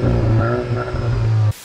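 A Volkswagen Golf 8 GTI fitted with a particulate filter starts up, its engine catching with a loud low rumble and a brief rev before idling steadily for over a second, then cutting off abruptly.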